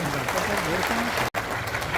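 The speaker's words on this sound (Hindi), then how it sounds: "जरा जोरदार ताली बजा स्वागत करें" Audience applause welcoming a guest at a community commemoration event, dense continuous clapping from a crowd throughout, with a voice speaking over it and a brief dropout midway.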